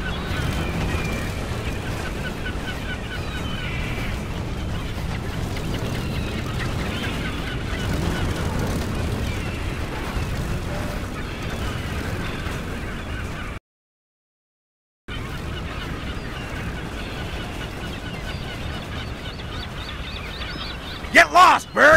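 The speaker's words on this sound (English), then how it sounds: "We gotta do something to get rid of those gulls." Gulls in the Brutal Legend video game squawk and honk continuously over a dense, loud game soundscape, cutting out briefly before resuming, with sharp bursts near the end.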